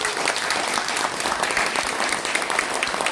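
Steady, dense applause from the audience at a book concert, a full crowd clapping evenly and continuously at close range.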